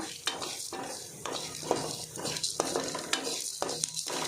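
Masala for a chicken curry sizzles in a pan while a spoon scrapes and clinks against the metal in a repeated stirring rhythm, close and fairly quiet.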